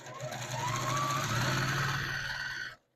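A sewing machine stitching a straight quilting line through fabric, a close, steady mechanical whir with a fast needle rhythm that runs for under three seconds and then stops.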